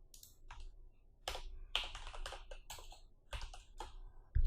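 Close, quick keystrokes on a computer keyboard while JavaScript code for a while loop is written, in irregular bursts of clicking taps with no talk.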